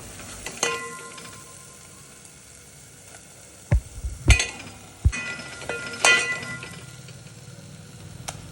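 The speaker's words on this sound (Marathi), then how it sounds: "हळद, लाल मिरची पावडर आणि तयार केलेली ग्रीन पेस्ट टाकायची आणि छान परतून घ्यायचं आहे" Turmeric, red chili powder and green paste sautéing in oil for a milk curry, a soft steady sizzle punctuated by a few loud metallic clangs and scrapes of stirring against the pan.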